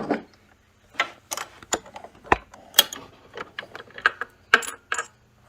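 A wrench or ratchet removing a bolt and nut from a bracket while a Burromax TT1600R bike is assembled makes scattered, quiet metallic clicks and ticks in irregular bursts, close by, with one sharper clank partway through.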